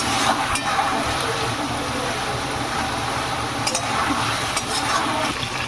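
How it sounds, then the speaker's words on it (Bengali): Taro (arum root) sautés in a pan for a home-style curry, a steady close sizzle with faint scraping. The sizzle holds at an even level throughout, with no talk. "কচুটা ভালো করে কষানো হয়েছে"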